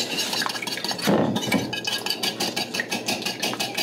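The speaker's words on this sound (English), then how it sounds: "you're just going to mix this together until it's well combined" Cake donut batter with melted butter being mixed in a bowl, with a run of quick scraping, clinking strokes of a utensil against the bowl, one louder clatter near the start, close up.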